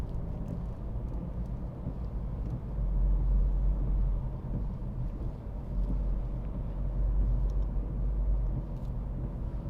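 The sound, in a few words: 2009 BMW 3 Series 318D driving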